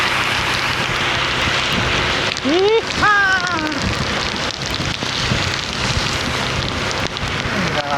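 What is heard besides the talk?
rain falling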